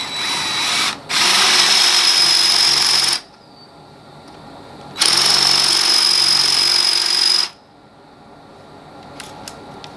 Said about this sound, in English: I've marked it with tape and I'm just going to drill to that tape.